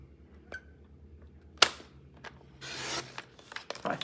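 White paper card stock is trimmed down to size for a flap fold card, with a sharp snap of a trimmer blade, short clicks, and a brief rasping slide of the cutter along the paper.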